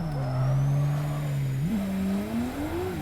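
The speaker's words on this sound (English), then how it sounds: "it sounds like the motor is just bouncing limiter" Simulated car engine in Assetto Corsa, a drift-modded Nissan S13 or R32, held against the rev limiter with a steady buzzing drone that steps up in pitch partway through and climbs again, loud and close with no talk.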